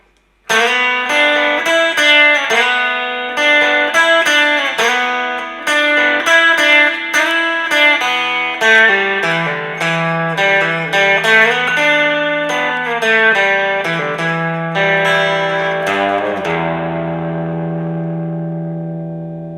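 An electric guitar plays a fast lead solo from a song with effects and reverb, dense runs of picked notes that end on a long, ringing, fading note.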